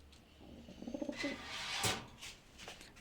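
Pigeons kept for breeding coo softly in a loft, with a few low rhythmic coos and fluttering noises at close range and no talking.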